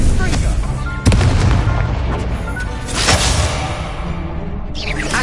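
Confringo fire spells cast in Hogwarts Legacy on PS5 burst as sharp, booming blasts with whooshing tails, several in quick succession at about one and three seconds, over continuous game ambience.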